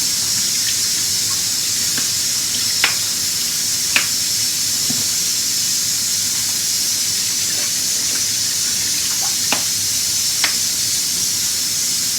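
Pepper and meat fry in a pan with a steady, bright hiss of sizzling, dotted with occasional sharp pops and crackles, close and continuous.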